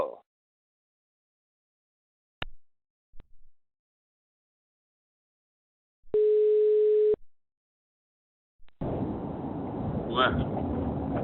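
A telephone line tone heard while waiting on a call to a minister's office: a steady one-second beep after scattered clicks and silence, then a rush of line noise or wind.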